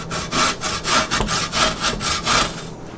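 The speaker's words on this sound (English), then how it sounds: "let's just start grating" Purple yam (ube) scraped over the fine side of a grater in a quick, even back-and-forth rhythm, about a dozen close, loud rasping strokes with no talk.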